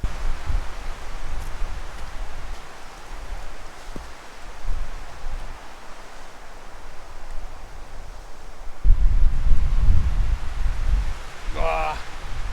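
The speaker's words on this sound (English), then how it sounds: "Wind is crazy, but my tent is holding well." Strong wind blowing against a Snugpak Ionosphere tent outdoors: a steady broadband rush and buffeting roar that swells into a louder, deeper gust near the end.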